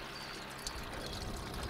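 Water poured from a bottle over bones in a pot for a beach boil-up cook, a continuous soft splashing and gurgling, quiet and close with no talk.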